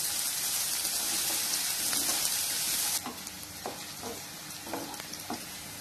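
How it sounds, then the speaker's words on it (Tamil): Chopped turnip sizzles and fries in a hot pan. A loud, bright hiss runs for about three seconds, then softens, with scattered stirring clicks and scrapes. "நூக்கல்ஸை நல்லா வதக்கிக்கோங்க."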